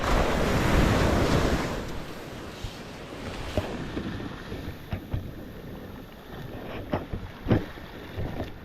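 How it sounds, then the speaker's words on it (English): Big ocean waves break and wash up a beach during metal detecting, opening with a loud roaring surge that fades into scattered crashes and foamy hiss, with gusty wind buffeting the microphone and no talking. "Bunch of big waves behind me right now"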